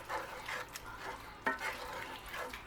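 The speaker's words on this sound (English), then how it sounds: "and give it a stir." Beef broth is stirred into flour in a pan with soft, wet scraping and swirling strokes, faint and close, with a brief clink partway through.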